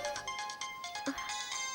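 A mobile phone rings with an incoming call, playing a repeating melodic ringtone that stays steady and clear at moderate volume with no voices.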